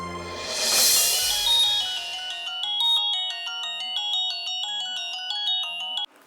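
A telephone ringtone plays as a call is placed, a bright repeating electronic melody of short tones following a brief swell of noise at the start, then cutting off abruptly.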